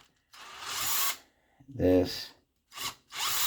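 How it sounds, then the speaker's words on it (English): A power drill bores into a part of an HPI Savage RC car during a drivetrain repair, whirring in two loud bursts near the mic with a short spoken word between them. "Go forward, and we're just gonna drill"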